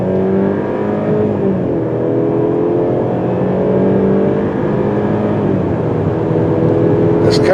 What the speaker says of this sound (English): This car is quick, but the 4-cylinder sound doesn't exactly spark confidence.